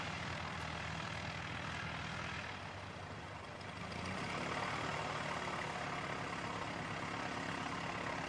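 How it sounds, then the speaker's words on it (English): ATR turboprop airliner arriving at Christchurch Airport, a steady loud propeller and engine drone that holds throughout and swells slightly toward the end, with no talking. "Next inbound should be the ATR coming in from Wellington, a few minutes away"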